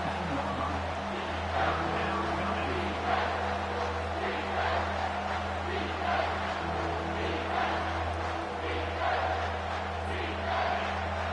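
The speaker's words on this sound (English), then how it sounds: "Third down, and this crowd is tearing the lid off this place." Stadium crowd noise in the College Football 25 video game swells into a continuous loud roar on a third-down play, steady and dense for the whole stretch without clear commentary over it.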